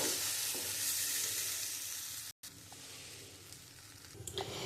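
Batter-like jackfruit seed mixture with salt and turmeric is stirred in a wok until it thickens, a continuous dense sizzle and frying hiss with soft scraping, broken by a brief silent gap midway, no voices.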